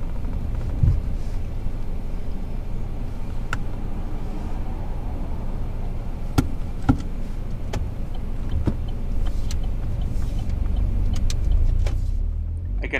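From inside a car on a UK mock driving test, a steady low engine and road rumble carries on as the car pulls away and drives on, with scattered soft clicks and knocks and no talking.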